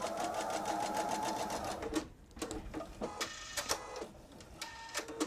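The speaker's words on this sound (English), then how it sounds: "Oops, I just sewed over my pin." A sewing machine stitches fabric for a two-bottle wine tote and runs over a pin: a steady close whir for two seconds, then a quieter stretch of uneven taps and clicks.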